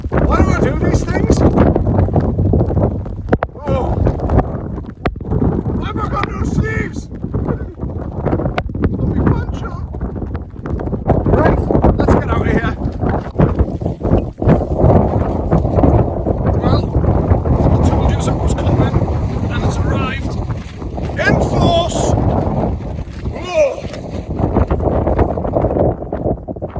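Strong gusts batter the microphone at a rainy Lake District campsite during a thunderstorm, a loud continuous roaring rumble that swells and dips, with a voice speaking intermittently over it.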